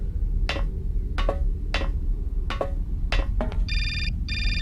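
An in-game telephone rings in the adventure game Syberia, a tonal electronic trill arriving in two short bursts near the end, after a series of sharp, evenly spaced knocks or steps over a low steady hum.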